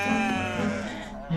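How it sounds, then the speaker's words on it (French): Sheep bleating in the Sahara, a single loud, near, wavering bleat lasting about a second, then a short second call starting at the end. "il faut attraper les moutons"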